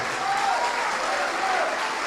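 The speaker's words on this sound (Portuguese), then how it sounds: "dar para esta palavra a melhor salva de palmas que já se ouviu no Jaçanã" Church congregation applauding after a sermon, a steady, full wash of many hands clapping at once that holds evenly throughout, with faint voices calling out beneath it.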